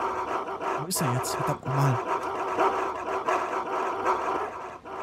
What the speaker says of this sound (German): Hey, da ist ein Hund.